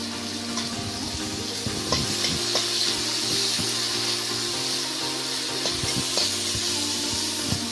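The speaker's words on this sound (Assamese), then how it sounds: "পিঁয়াজখিনি এনেকৈ ভাজি ল'ব তেলত।" Sliced onions fry in hot oil with a steady, close sizzle that runs unbroken, while occasional scrapes and stirring sounds rise over it.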